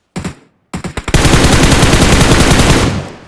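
Video-game gunfire: a few separate loud shots, a short pause, a quick cluster, then a sustained rapid automatic burst of about two seconds that tails off, close and loud with no talking.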